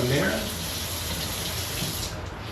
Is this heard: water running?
yes